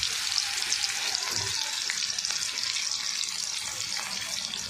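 Onions frying in a pan for homemade pasta, giving a steady hissing sizzle throughout, close and even, with no talk.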